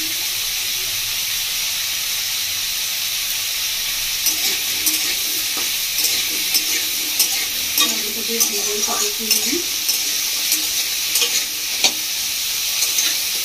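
Chela fish and potatoes fry in a pan, village-style Bengali cooking, with a soft steady sizzle and a run of irregular scraping stirs in the middle and later part, no talking.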